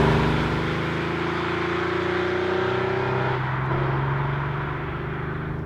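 A tuned 290-horsepower Porsche 911 (964) engine revs up under load from inside the car, its pitch rising steadily, dropping at a shift, then climbing again, loud and continuous.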